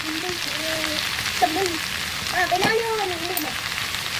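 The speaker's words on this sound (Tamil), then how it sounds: "எண்ணெயில் வதங்க இதை பாருங்கள் கம்மியாகிடுச்சு கீரை." Keerai greens wilt in hot oil with a soft, continuous sizzle and occasional stirring, while a voice talks intermittently over the cooking.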